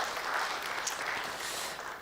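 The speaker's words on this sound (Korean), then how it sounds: "박수 한번 쳐주세요. 우리 전사님께." A church congregation applauds during a Sunday service, a soft, steady patter of many hands clapping together at a distance for a couple of seconds.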